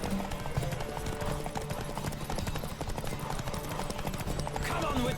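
In The Witcher 3, a horse race plays out with rapid, continuous hoofbeats of galloping horses, joined by voices and game sounds over a busy, loud mix.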